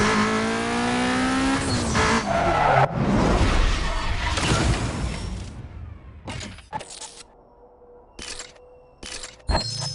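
Lotus Elise in Need for Speed Most Wanted sprint race, engine roaring and tires squealing loudly for several seconds, then a sparse stretch of sharp bursts and clicks with quieter gaps.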